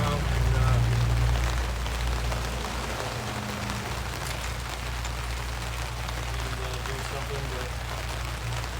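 Steady rain falls outdoors around a workshop where Ford trucks are kept, giving a constant dense patter throughout, while someone speaks briefly near the start.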